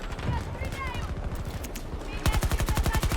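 Rapid bursts of gunfire in the video game Battlefield 2042, with a dense, fast series of shots loud in the final second over a busy battle mix and talking voices.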